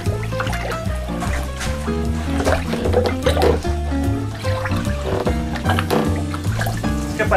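Water pouring and splashing in fish farming drums at a tilapia smallholding, a steady liquid rush under a busy layer of other noise, continuous for several seconds.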